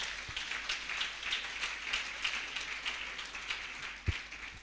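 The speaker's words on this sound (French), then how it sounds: "Acclamons pour le Dieu de gloire" A church congregation claps steadily during a Sunday worship service, making a continuous, even wash of applause with one low thump near the end.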